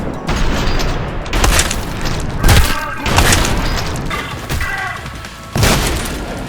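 A shotgun in the shooter game Trepang2 fires in heavy, cannon-like booms, about five or six blasts at irregular intervals amid combat clatter and shattering, loud and close.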